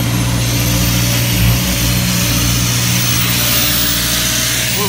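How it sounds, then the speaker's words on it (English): An air compressor mounted in a walk-in truck body, starting from zero PSI alongside a generator, sends out a loud, steady mechanical drone with a constant low hum for about five seconds, without speech. "Now we're going to fire up the compressor."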